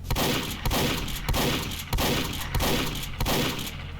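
Video-game gunfire from Monster Hunter rattles in loud, dense bursts, returning in a steady rhythm about every half second without a break.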